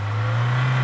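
A Mahindra Thar Roxx engine is held at high revs in reverse gear, a steady, loud, droning hum that continues without a break, with no voices.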